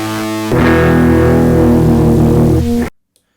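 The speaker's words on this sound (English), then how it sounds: "the louder you get, instead of becoming more distorted or more overdriven, your sample rate is reduced, so you get more of this kind of bit crushed tone" Sustained distorted tone run through a broken digital compressor that lowers the sample rate as level rises, giving a harsh, gritty bit-crushed sound that holds loud and steady for a few seconds, then cuts off abruptly into silence.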